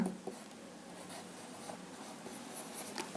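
Pen scratching on paper as words are written by hand, a soft continuous scribble close by with short strokes and pauses.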